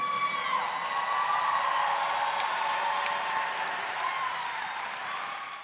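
An audience breaks into sustained applause, a steady, fairly loud wash of clapping lasting several seconds and easing slightly at the end, with a faint tonal whine underneath.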